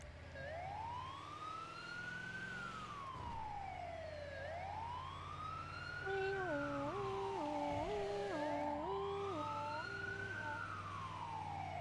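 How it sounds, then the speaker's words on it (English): Ambulance siren in a roleplay video game, a loud wailing siren sweeping up and down in slow cycles, joined midway by a second siren stepping rapidly between high and low tones. "This is the ambulance."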